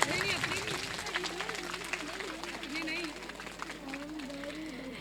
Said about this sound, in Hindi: दोनों टीम्स के लिए ज़ोरदार तालियां होनी चाहिए।